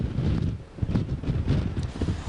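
Strong night wind gusts through downtown Rochester near the Liberty Pole, buffeting the microphone with steady, blustery roaring and rushing that swells and eases over a couple of seconds.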